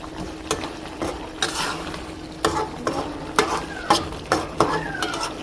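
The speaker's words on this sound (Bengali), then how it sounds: "জালি কুমড়ো মূলো আলু একসাথে এই সবজিটা একদম ভালোভাবে কষাবো" Ash gourd, radish and potato are stir-fried together in a pan, with a spatula scraping in steady repeated strokes over a continuous close sizzle, no voices.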